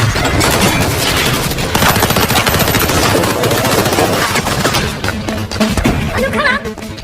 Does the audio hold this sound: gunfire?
yes